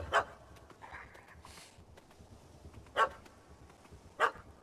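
A dog in The Witcher 3 barking three times in short, spaced barks, moderately loud against a quiet background.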